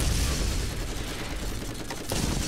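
Gunfire in the video game Borderlands: a dense, continuous burst of rapid shots and booms fills the whole stretch at close, loud level, with a sharp crack near the end.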